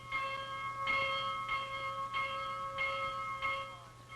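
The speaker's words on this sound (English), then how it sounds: "to gain admittance to St. Bernard Hospice, the stranger still has only to ring this bell" A bell rung at the entrance of the St. Bernard Hospice in the mountains, clear resonant strikes repeating at a steady pace about every half second, ringing and sustaining between hits, loud and close.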